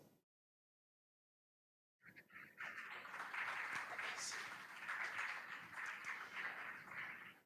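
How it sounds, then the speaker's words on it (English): After a brief silence, a crowd at a school quiz contest between Ayikuma Methodist Basic School and Shalom International School breaks into sustained applause for the contestants, moderately distant and even for about five seconds. "Let's give them a round of applause."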